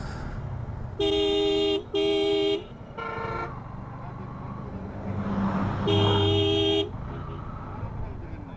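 A car horn honks on a single-lane road to Gopalganj, two quick loud blasts, then a weaker one, then a longer blast, over road and engine rumble.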